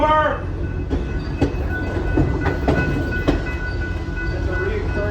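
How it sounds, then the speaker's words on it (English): A steam special train rolls along the rails on a Summerville excursion run, with a steady, close rumble punctuated by rhythmic clickety-clack wheel beats over rail joints, and voices faintly under the noise. "I ride this train for free."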